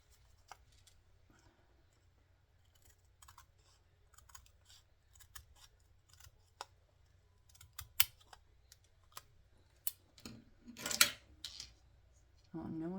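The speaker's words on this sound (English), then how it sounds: "They're embroidery scissors, and they work better for me." Small embroidery scissors trimming material, heard as a series of quiet, crisp snips that grow denser and louder toward the end over a low background hum.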